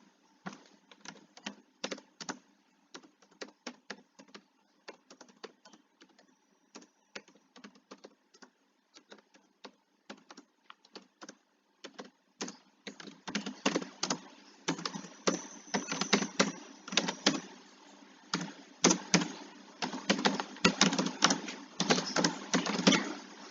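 Keys clatter on a computer keyboard as code is typed, starting as sparse, scattered taps and building into quick, dense bursts of close, crisp clicks in a quiet room.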